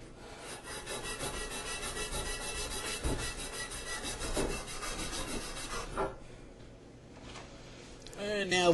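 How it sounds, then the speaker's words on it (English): Emery cloth rubs the ends of copper pipe clean during shower valve replacement, giving a close, continuous scratchy scrubbing with uneven strokes for about six seconds before it quiets down. "now we're going to take our emery cloth and clean once again the ends of the pipe"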